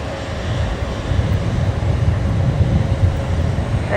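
A Boeing 737 arriving from Norfolk Island roars in to land at Brisbane Airport, a steady broadband jet rumble that swells slightly and holds loud throughout, with wind noise on the microphone.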